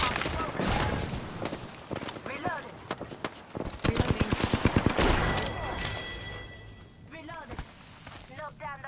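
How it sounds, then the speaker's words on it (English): Gunfire in an Apex Legends match crackles in dense, rapid automatic bursts and single shots, loud and close, followed by reload clicks and game sound effects, with a voice talking through parts of it. "Taking shots. Reloading."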